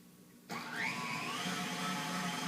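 An electric mixer on a high speed setting churns heavy cream toward butter, starting up suddenly with a loud, steady whirring drone that holds its pitch with a slight wavering rise.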